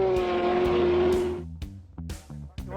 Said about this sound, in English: The Nome-Golovin 200 is like the Indy 500 snow machine racing.